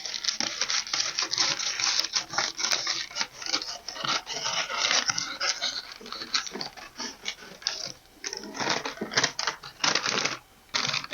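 Scissors snip through a paper dress pattern in quick, irregular bursts of crisp cuts, close and clear, with brief pauses between runs of cutting.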